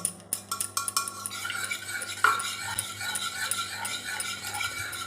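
A garlic mixture with whole cloves is stirred in a wok with oil and ghee, with soft scraping and metallic clinks over a faint sizzle, and no one speaking.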